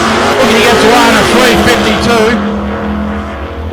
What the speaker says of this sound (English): Beautiful little Anglia, isn't it? Running a Chev engine.